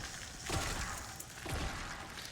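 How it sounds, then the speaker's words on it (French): A weapon is reloaded in Call of Duty: World at War on the Nacht der Untoten zombie map, with two mechanical clacking and sliding actions over a noisy game background. "On va recharger ça"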